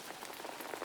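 Steady, soft rain falls continuously, a fine hiss of drops pattering on surfaces with gentle, even texture and no talking.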